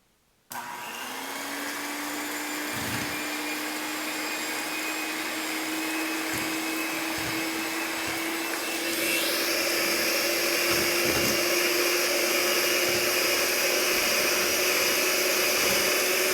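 An electric mixer whirs steadily while blending qatayef batter, a loud continuous motor drone that starts abruptly and rises slightly in pitch and strength partway through, with no talking.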